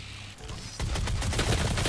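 Chain gun in DOOM firing in a rapid, evenly spaced burst of loud, close shots that starts abruptly after a brief lull and keeps hammering to the end.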